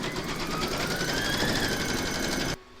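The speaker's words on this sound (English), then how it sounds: "Load the file into your machine, and then you're going to stitch round number 1," An embroidery machine stitching a placement outline for an in-the-hoop apple coaster, producing a fast, even mechanical whirr with rapid needle pulses that stops abruptly near the end.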